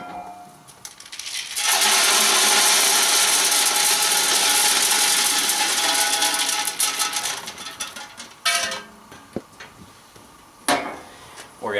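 Wood pellets pour into the hopper of a REC TEC pellet smoker in a long, loud, hissing rattle lasting several seconds, followed by a few scattered clunks and taps as the pouring stops.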